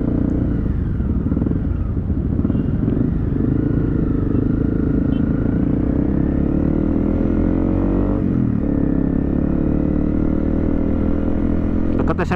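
Big motorcycles rumble and rev in slow, congested city traffic in Bandung, their engine noise loud and steady, with a brief burst of acceleration, while people talk close by.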